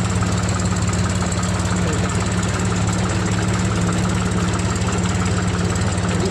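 A tractor engine runs steadily in flood water, a constant loud idling rumble with a knocking mechanical pulse that continues without a break, and no talk over it.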